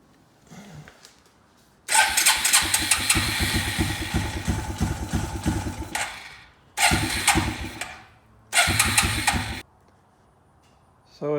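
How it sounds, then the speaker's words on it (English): The engine of a Suzuki Quadrunner 250 ATV, flooded with gas in the crankcase, cranks and catches in rough, sputtering bursts separated by pauses, loud and close to the mic. "So it's running kind of like the voltage regulator's bad. It's sputtering real bad."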